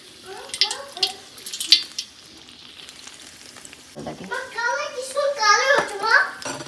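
Pieces of food fry in hot oil with a bubbling sizzle. Voices, including a child's, talk over it intermittently, and the frying grows busier toward the end.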